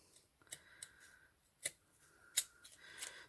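Scissors trimming through layers of tulle for a hair bow, a few soft close snips and sliding blade sounds spaced irregularly over a quiet background.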